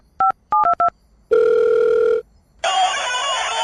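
A telephone gives a few quick keypad beeps, then one long steady ringing tone, followed by a burst of noisy, hissing line sound.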